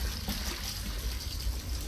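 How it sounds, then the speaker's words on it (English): Water trickling in the video game Amnesia: A Machine for Pigs, a steady, close watery burble with no break over its short length. "Oh no. It's water."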